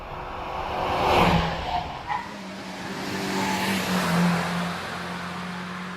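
An MG ZR races up the hillclimb course at Doune, its engine note rising and falling as it revs through gears at moderate distance, with a sustained drone carrying on after a brief sharp burst.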